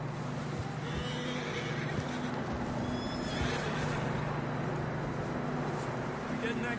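Horses neigh and whinny in a video game, with faint hoof clops over a steady hum of wind and ambient noise; the calls are mid-distance and fairly soft, and there is no clear talk.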